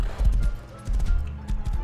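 Horse hooves clip-clop in the survival game Rust, a string of dull, close thuds in uneven bursts separated by a short pause, with no speech.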